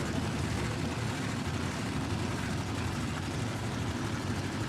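Supercharged big block altered drag car engine at a Warwick drag strip event, a steady dense low rumble that stays loud and unbroken throughout, with no talk over it.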